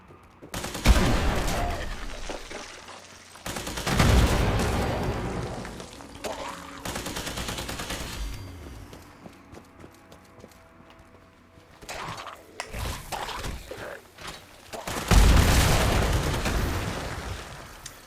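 Rapid bursts of Tesla rifle fire in the video game Fallout 76 come in several loud clustered volleys separated by quieter gaps, with no talking.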